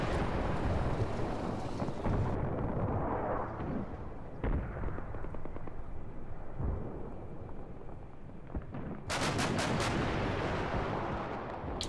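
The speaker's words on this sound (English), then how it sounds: "I do love the sound of that 30mm." 30mm cannon fire in the Combat Mission: Cold War video game, heavy booming bursts and rumbling blasts rolling over a dense battle backdrop, with a sharp rapid volley near the end, no voices.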